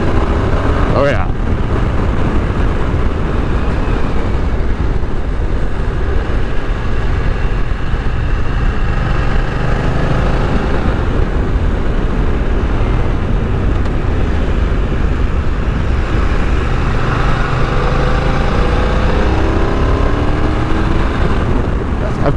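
A BMW F900XR motorcycle is ridden in dynamic mode, its engine drone buried in a loud, steady roar of wind buffeting, with a muffled voice at times.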